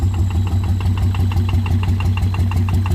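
A loud turbo engine with a modified stage-two racing exhaust idles close by with a deep, lumpy exhaust burble, pulsing in a steady rhythm throughout. No voices.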